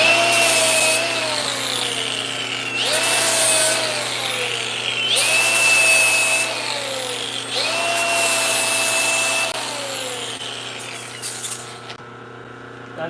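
A Bridgeport J-head milling machine cuts metal spacers with cutting fluid applied, making four repeated passes, each a loud rising-then-falling screech with a steady motor hum beneath, ending in a quieter tail with no talk.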